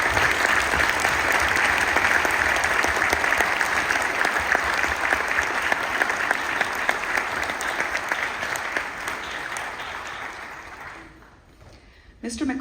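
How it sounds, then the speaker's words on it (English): Sustained applause from a concert audience honoring school band parents at a symphonic band performance, a dense roar of clapping that fades toward the end. "Let's give them a round of applause."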